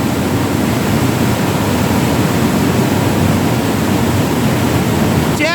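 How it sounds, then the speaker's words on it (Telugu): Water surges out of one of eleven hydroelectric turbine units at a power station, making a loud, constant roaring rush like a waterfall that fills the whole clip. "టర్బైన్ తిరగడానికి వాటర్ ఎట్లా అవుట్ఫ్లో అవుతుందో."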